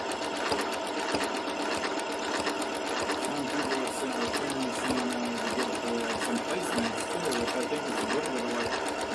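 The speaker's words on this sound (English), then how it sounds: "And this machine, I can tell it start a new stitch" A domestic sewing machine stitches fabric in a steady, close mechanical whir that runs without pause for about nine seconds.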